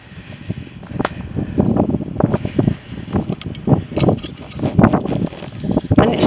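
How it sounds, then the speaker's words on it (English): Wind gusts across an open hillside on a hike near Winscombe, buffeting the microphone in loud, uneven bursts and low rumbles that swell and fade throughout. "And it's windier here."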